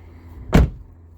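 A Nissan Rogue side door gives a single short, loud thud near the close, one sharp burst standing alone against quiet surroundings.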